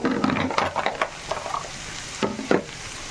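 Onions sauté in oil in a pan for Andhra-style egg curry, with a soft sizzle under bursts of spoon stirring and scraping against the pan.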